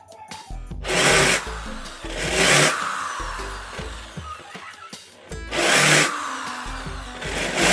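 Power drill chamfering a screw hole during a used-oil stove build, heard as three loud close bursts of whirring, grinding bit noise separated by quieter pauses with small handling clatter.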